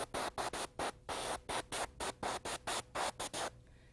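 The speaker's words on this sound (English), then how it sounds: "Now I'm just going to move on and spray the rest of these nails." Short bursts of airbrush spray hiss in a steady rhythm as fingernails are painted, about a dozen quick puffs close by, with brief pauses between them.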